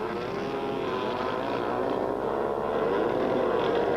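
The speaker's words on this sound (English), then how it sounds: "Salvador on the KTM, ahead of Peter-Hansel on the Yamaha" KTM and Yamaha supermoto motorcycles racing on track, a loud continuous high-revving engine drone with shifting pitch, close and steady throughout.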